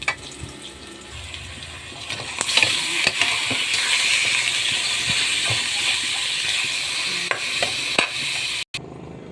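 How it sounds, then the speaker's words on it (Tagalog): Garlic, onion and ginger sauté in a pan, with a steady loud sizzle and frying hiss under clicks and scrapes of stirring, and a short break near the end. "bawang, sibuyas at luya. Naggigisa na po tayo."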